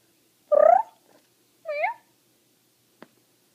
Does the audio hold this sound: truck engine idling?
no